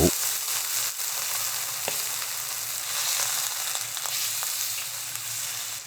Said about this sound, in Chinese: 加进去一些姜片，跟鱼头一起煎香